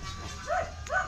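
A dog gives two short barks at moderate distance, brief and fairly faint over a quiet background.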